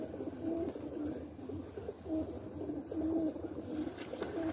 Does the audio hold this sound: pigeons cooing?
yes